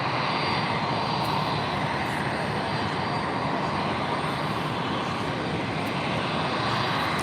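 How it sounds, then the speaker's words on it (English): A JetBlue Airbus A320 jet approaching to land at JFK, inbound from Orlando, makes a steady, loud broadband engine roar that holds constant throughout, with no talking. "JetBlue A320 coming at us here."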